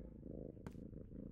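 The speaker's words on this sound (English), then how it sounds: "Maybe this cat isn't so bad after all." A cartoon cat gives a soft, continuous low purr, steady and close, broken briefly by a small click partway through.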